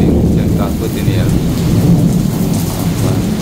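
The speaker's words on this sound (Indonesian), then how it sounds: "Wow, hujan angin ini guys" Heavy rain and wind storm in Makkah, a dense continuous roar of pouring rain and gusting wind, loud and steady throughout.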